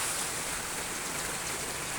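A clear river flows in the mountains, giving a continuous, even rushing hiss of water throughout, with no voices and no breaks.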